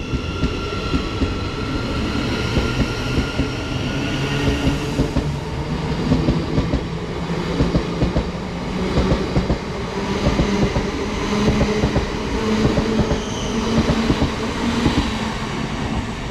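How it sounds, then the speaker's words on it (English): A Class 700 passenger train rumbles steadily past, wheels clicking rhythmically over rail joints, with faint metallic squeals and a constant mechanical drone. "Right out now is our train, 700-132, heading to"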